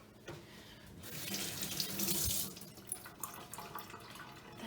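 Kitchen tap water runs steadily as something is rinsed under it, a close, continuous splashing that swells in the middle then settles into lighter drips and trickles while making a Greek dressing.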